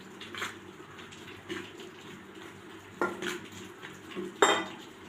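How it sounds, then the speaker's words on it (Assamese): A utensil scrapes and clinks against a bowl while flour, salt and refined oil are mixed together, with soft intermittent knocks and a sharper clatter near the end. "এইখিনি মই অলপ মিক্স কৰি লৈছোঁ"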